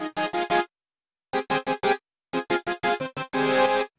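Thick, bright layered sawtooth and square-wave synth chords play in short punchy stabs, grouped in bursts with silent gaps, ending on one longer held chord.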